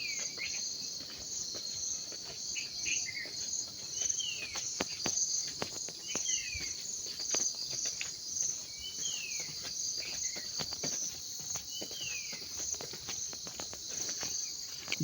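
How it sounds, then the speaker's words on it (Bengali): Crickets chirp steadily in the morning at a nature resort, a dense continuous trill with birds calling faintly in the background and no voices. "তারপরেও ঝিঝি পোকা এখনো ডাকতেছে।"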